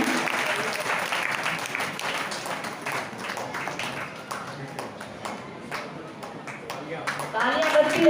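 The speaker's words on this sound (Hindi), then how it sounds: "तालियां बजती रहनी चाहिए।" Applause from the audience at a Shravani festival and Raksha Bandhan celebration in Jind, with steady clapping that goes on over a background voice and rises toward the end.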